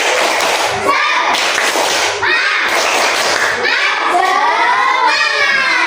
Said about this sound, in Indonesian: Kita tepuk semangat dulu untuk semangat belajar